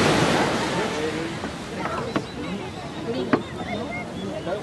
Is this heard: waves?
yes